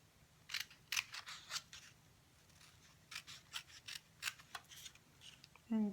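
Scissors cut out paper squares, giving close, crisp snips in quick clusters separated by short pauses. A voice briefly begins to speak at the very end.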